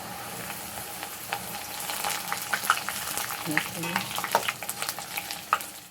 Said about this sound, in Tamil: இப்போ நம்ம வெங்காயம் சீச்சு வச்ச வெங்காயத்தை அதில் போட்டு வறுக்க போகிறோம்